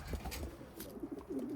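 A blue bar white flight pigeon cock coos softly and close by, a few low throaty murmurs in a quiet setting with no talk.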